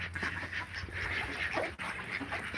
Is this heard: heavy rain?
no